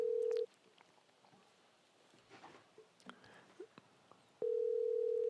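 A telephone dial tone sounds loud and steady, breaks off for a stretch of faint clicks and soft dialing noises, then the tone comes back at full level.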